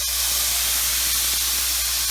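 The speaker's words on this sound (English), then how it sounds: "deglaze the pan, and get all this nice fond flowing." White balsamic vinegar hits a hot pan with a loud, steady burst of steamy hiss that holds evenly for a couple of seconds, close and alone.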